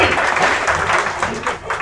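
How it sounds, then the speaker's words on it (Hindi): Audience clapping at a Hindi poetry gathering with comic poet Shambhu Shikhar, a dense burst of many hands that stays loud before dipping briefly near the end and swelling again, with possible voices blended in. "चलिए, एक बार सब जोरदार तालियां बजाइए"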